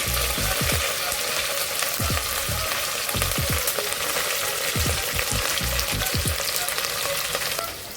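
Golden-brown onions fry with freshly added mint and coriander, giving a loud, continuous sizzle broken by repeated scraping stirs, close up, with no talking.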